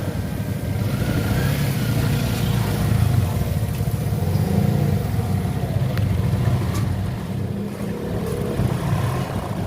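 A motorcycle engine idles and revs steadily nearby, a continuous rumbling drone with slight swells in loudness throughout.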